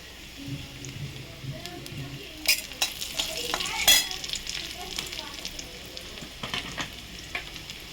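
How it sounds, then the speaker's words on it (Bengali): Dried red chilli frying in hot oil with ginger, a steady crackling sizzle broken by sharp spatters and stirring scrapes, close and moderately loud throughout. "একটা শুকনো লঙ্কা দিয়ে দিলাম।"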